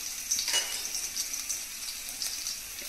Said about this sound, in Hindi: और इनको हाई फ्लेम पर भूने लेते हैं